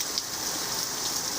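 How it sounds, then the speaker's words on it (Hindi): Heavy rain falls in a dense, steady hiss of countless drops striking surfaces, loud and close, with no pauses and no voices. "काफ़ी तेज़ बारिश है।"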